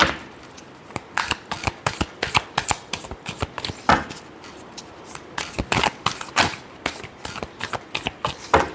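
Tarot cards are shuffled by hand in quick, crisp riffling bursts, close and clear, with short pauses between rapid flurries of card slaps.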